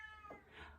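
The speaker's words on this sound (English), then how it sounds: "And yes, that is my cat." A house cat meows once outside a closed door, a short, faint, muffled complaint heard from a distance.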